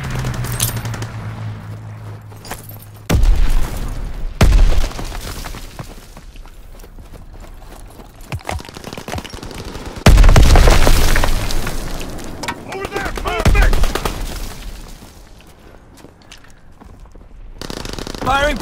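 Gunfire from a strafing fighter plane in the video game Call of Duty WW2, with heavy bursts and booming impacts that come and go among loud battle noise. Voices talk at points throughout.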